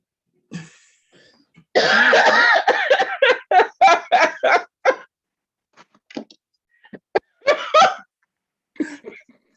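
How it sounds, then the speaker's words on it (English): A burst of loud, harsh coughing, several rapid hacks in a row, followed by a few scattered smaller coughs and throat sounds, close to the mic. "I got a cough"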